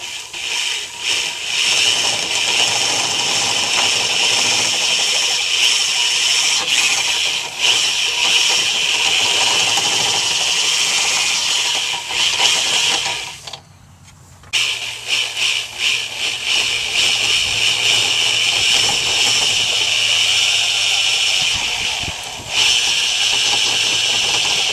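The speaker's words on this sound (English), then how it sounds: "we're going to be taking our taper bit, and we're going to have to make it that big of a hole so that it fits our battery terminals" A drill runs steadily with a taper bit, enlarging a hole to fit battery terminals during wiring work on a Ford F250 6.9 diesel. The tool cuts out for a brief pause midway, then carries on.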